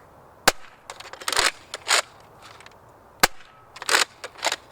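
A Nerf Rival Apollo XV-700 blaster fires foam balls outdoors: sharp, loud pops at irregular intervals, several single shots with brief rattly bursts between them, nothing else in the background.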